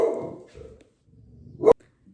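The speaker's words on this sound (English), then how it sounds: "Okay, sorry, my dog." Pet dog barking nearby indoors, one fading bark followed after a short pause by a second, sharper bark that cuts off abruptly.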